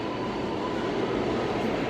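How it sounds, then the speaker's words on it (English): A subway train rumbles at the Times Square 42nd Street station near the 1 line, a loud, continuous roar of rolling wheels with a faint steady whine. "we're in 42nd Street, like right in the Times Square station over by the 1 train"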